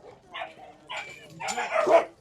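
A Cane Corso puppy at a dog market gives a few short, yappy barks and whimpers close by, coming in uneven bursts that grow louder toward the end.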